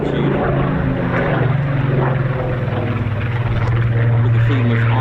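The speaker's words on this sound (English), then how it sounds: "Mark 19 Spitfire. 440 miles an hour with no armament." A Mark 19 Spitfire, an unarmed high-speed reconnaissance fighter, flies past at the Royal International Air Tattoo 2025, its steady loud engine drone filling the whole stretch with a strong low hum.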